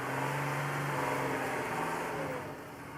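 A Mercedes-Benz Unimog engine labours steadily while climbing a steep 60% slope with steps, a continuous mid-pitched drone that eases off slightly near the end, with no voices.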